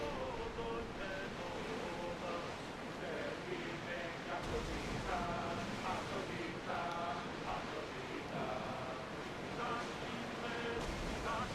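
Sea waves wash steadily around a sailing ship in the ancient Greek world of Assassin's Creed Odyssey, a continuous mid-level surge with wind noise beneath a crew singing and a voice talking.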